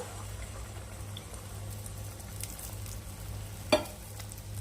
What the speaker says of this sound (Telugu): ఇప్పుడు ఆమ్లెట్కి కలిపి పెట్టుకున్న మిశ్రమాన్ని వేస్తున్నాను